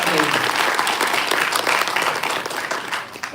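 An audience at a direct selling business talk bursts into loud, dense applause that carries on steadily for a few seconds before thinning toward the end.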